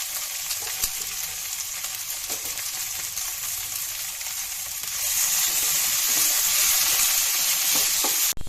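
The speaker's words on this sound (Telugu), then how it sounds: "ఇలా వేయించుకుందాం." Masala ingredients for majjiga pulusu frying in a pan with a pinch of salt, giving a constant close sizzle that grows louder and hissier toward the end before a brief clatter.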